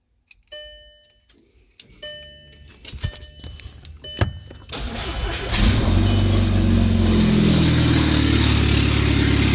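A VW Jetta drift car's engine makes its first start: scattered clicks and short cranking whirs, then the engine catches and settles into a loud, steady run that fills the rest of the clip.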